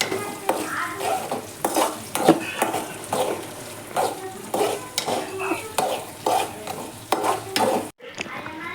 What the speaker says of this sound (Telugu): ఉల్లిపాయలు వేసుకున్నాక చూడండి, ఇట్లా కలుపుకోవాలి.